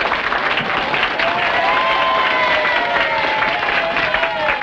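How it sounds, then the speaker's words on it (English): An audience gives close harmony singers a sustained round of applause, a dense and steady clapping from a crowd with a faint murmur and some whistling tones underneath. "Another big hand, please, for our close harmony ladies"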